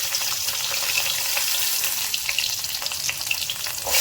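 Chillies sautéing in a little oil with garlic and crushed turkey berries for a Tamil sundakkai thuvaiyal, a steady close-up sizzle with bright crackling spits throughout, no voices.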